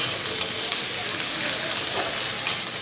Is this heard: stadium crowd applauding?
no